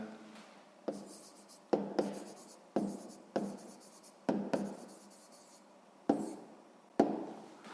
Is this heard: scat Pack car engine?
no